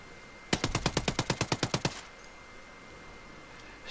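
In Ghost Recon Breakpoint, a suppressed MK17 rifle fires a rapid full-auto burst of about twelve evenly spaced, sharp shots, then stops into quiet background hiss.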